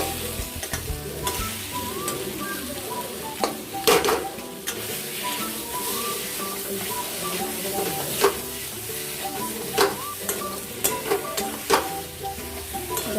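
Potatoes stir-fried with spices in a pan for a spicy duck egg curry: a continuous close sizzle with frequent clanks and scrapes of a metal spatula against the pan, no voices over it.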